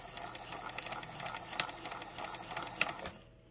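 A home sewing machine runs steadily in reverse to lock a stitch into a knot on triangle fabric pieces, a continuous whirring motor hum with rhythmic needle clatter and a couple of sharp clicks before it stops.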